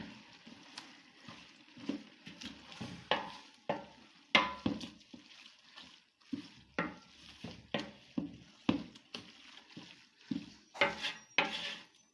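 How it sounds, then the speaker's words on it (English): A spoon stirring meat pie filling with a seasoning cube in a pot: repeated scraping and knocking strokes against the pot, close and fairly quiet, in a steady irregular rhythm of about a dozen strokes with no talk. "Then you stir everything together."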